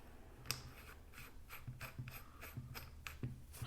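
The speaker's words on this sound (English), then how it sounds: "Okay, just seating everything good and tight with my fingers. And then on goes the retention nut." A retention nut is threaded by hand onto an old air sander, giving off quiet, close-up ratcheting clicks and small metallic ticks spaced irregularly over a faint background.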